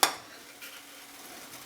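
Sugar-free keto champurrado bubbling in a saucepan as it is stirred, with a sharp utensil knock against the pan at the start followed by a faint, steady simmering hiss and light scraping.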